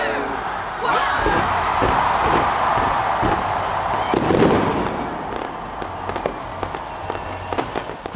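New Year fireworks burst over Auckland harbour, a steady run of sharp bangs and crackles over a continuous crowd roar, with loud booms clustered near the middle.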